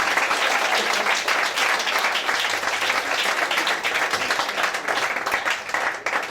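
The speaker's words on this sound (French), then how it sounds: "Alors applaudissez-vous." An audience applauds itself at a French-language talk, loud dense clapping filling the room from start to finish with no voices over it.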